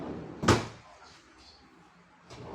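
A drawer of a modular aluminum kitchen cabinet bangs shut with one sharp close knock, then gives a softer slide and bump near the end, heard up close without speech.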